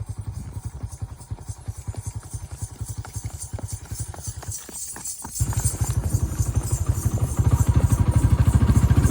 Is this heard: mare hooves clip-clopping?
yes